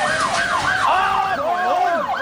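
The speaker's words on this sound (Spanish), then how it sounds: "La ambulancia pasa rápidamente" A wailing ambulance siren sweeps up and down in a steady repeating pattern as the emergency vehicle rushes past on the road, loud and continuous throughout, with no talking.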